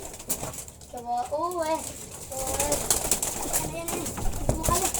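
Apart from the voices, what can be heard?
pigeons cooing and flapping wings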